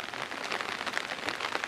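Rain falls steadily and fairly loud during a carnival gathering in San Pedro de Cajas, a dense, continuous patter of drops on surfaces with no pauses.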